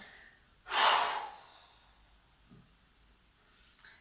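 One forceful breath is pushed out during a guided breathing exercise, a sharp, loud rush of air lasting about half a second. A brief quiet sniff follows later against near silence.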